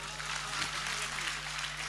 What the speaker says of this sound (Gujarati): વધાવો, તાળીઓથી વધાવો.